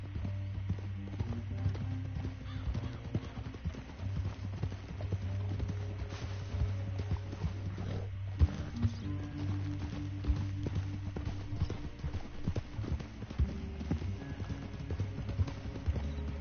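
Horse hooves clip-clop steadily in Red Dead Redemption 2 as a rider travels at a trot, a continuous rhythmic patter under a low musical score.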